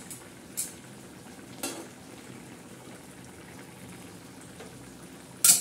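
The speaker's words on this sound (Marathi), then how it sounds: "अशी हलवून घ्यायची, मस्त अशी हलवायची." Fenugreek leaf vegetable sizzles softly in a pan while being stirred, a steady low frying hiss broken by a few sharp spoon scrapes and clinks against the pan, no talking.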